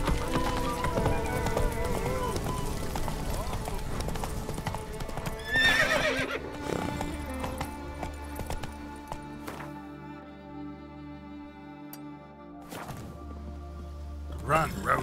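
Roach the horse galloping through Skellige in The Witcher 3, with rapid rhythmic hoofbeats and a loud neigh early on, then a quieter stretch of slower hoof thuds as the pace eases.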